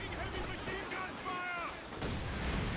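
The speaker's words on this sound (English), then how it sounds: "We got an incendiary barrage off there." Incendiary artillery barrage in the real-time strategy game Company of Heroes 2, a 2v2 battle, with dense continuous rumbling booms and crackling impacts at steady loudness, a sharp burst near the end, under a voice talking and game effects.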